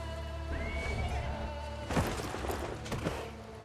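A horse in the 2025 film Red Sonja neighs loudly with a rising, shaky whinny, followed by a couple of heavy thumps against a steady background hum.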